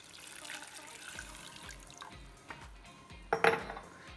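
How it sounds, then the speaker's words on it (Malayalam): Water poured from a tap or jug into a pot holding home remedy ingredients for cold and cough, a steady close splash with a few clinks of the pot near the end. "ഇനി ഞാൻ കുറച്ച് വെള്ളം ഒഴിച്ചെടുക്കുന്നുണ്ട്."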